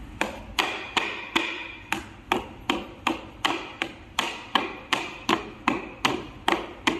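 About twenty sharp, evenly spaced hammer blows drive a scooter tire, soaped with dish-soap water, down onto a tire-mounting cylinder, each hit a crisp close knock with a short ringing tail, steady rhythm and no talking.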